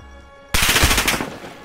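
Burst of rapid automatic gunfire in a tactical shooter match during a bomb-plant round, loud and close, starting abruptly after a quiet moment and rattling on for about a second before trailing off.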